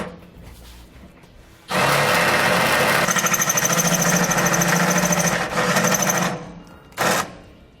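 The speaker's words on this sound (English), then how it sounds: "We'll now enlarge the hole using a 17/64 drill bit." A power drill with a 17/64 bit whines loudly into a 2006 Winnebago metal frame, enlarging a hole, in one long grinding burst, easing off briefly, then a short final spurt after a pause.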